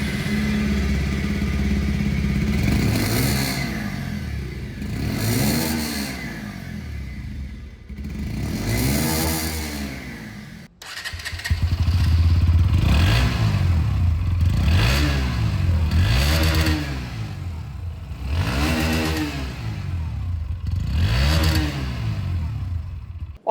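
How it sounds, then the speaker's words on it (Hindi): A 2023 Bajaj Pulsar 125 Fi E20 BS7 and a Bajaj Pulsar NS 125 Fi E20 heard in turn: each single-cylinder exhaust idles, then revs repeatedly in rising and falling throttle blips, close and loud, the second bike slightly deeper. "तो चलिए दोनों की जो एग्जॉस्ट साउंड है वो बारी बारी से मैं आप लोगों को सुना देता हूं।"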